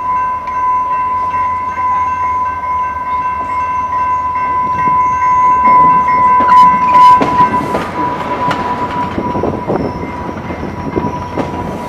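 A Rail Runner commuter train runs toward Santa Fe, with a steady loud rumble, clattering wheels and a sustained horn tone growing busier midway, heard alone without talk.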